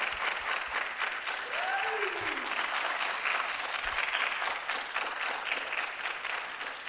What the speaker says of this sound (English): Let a round of applause flow for our 2024 Tertiary Business Sense Challenge champions,